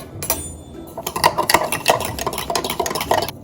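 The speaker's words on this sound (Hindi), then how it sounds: "1/4 कप जो है चिया सीड डालने और आपने इसको फौरन मिक्स करना है" A spoon stirs a quarter cup of chia seeds into plain 2% milk and half a cup of coconut milk, with repeated clinking and scraping strokes against the bowl, close and steady.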